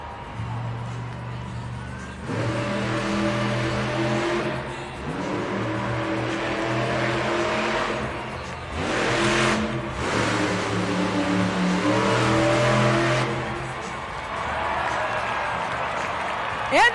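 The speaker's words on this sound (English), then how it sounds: "let's hear it for Blake Granger in Monster Mutt Dalmatian." A Monster Mutt Dalmatian monster truck makes its timed racing run in an arena, its engine roaring and revving in surges, while the crowd cheers and an announcer talks over the noise.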